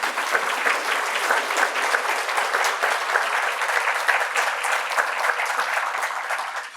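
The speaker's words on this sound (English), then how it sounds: "So Nina, round of applause for you and your work." Audience at a foundation talk applauding, steady dense clapping that holds at an even level for about seven seconds before tapering at the end.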